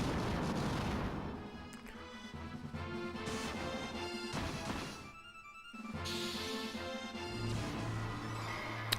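Level 8 fire spell cast in Final Fantasy II, heard as a series of crashing, booming bursts that come and go over a background of game music, with a brief drop near the middle.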